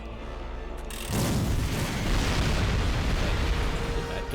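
A German railgun blowing up in the World War II shooter Medal of Honor: European Assault, a sudden heavy boom after a quiet moment that rolls into a sustained loud rumble of debris and blast noise.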